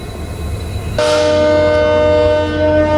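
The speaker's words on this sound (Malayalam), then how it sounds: "നീട്ടിയൊരു ഹോൺ അടിച്ചു ലോക്കോ പൈലറ്റ്, എന്നിട്ട് വണ്ടി എടുത്തു." A locomotive on the Mysuru–Chamarajanagar passenger train sounds a long, loud, sustained horn that starts suddenly and holds steady as the train departs; no one speaks.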